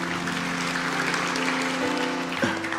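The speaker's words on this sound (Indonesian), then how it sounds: "Kasih tepuk tangan untuk Tuhan." A church congregation claps for God during a sermon, a sustained, fairly loud wash of applause from many hands, with a low steady hum and a brief tonal sound near the end.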